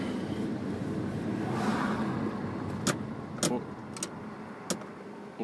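A parked car idles with its engine left running beside a large building at Mikuni Sunset Beach in Japan, a steady low rumble broken by several sharp clicks and knocks near the end.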